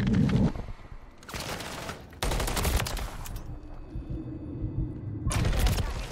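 Rapid automatic gunfire rattles in close bursts during a Call of Duty MW3 gunfight, with short pauses between the volleys and a final burst at the end.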